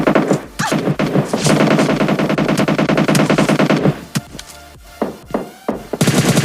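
Rapid bursts of automatic gunfire in a battle royale video game rattle loudly and almost continuously, then break into scattered single shots and short volleys.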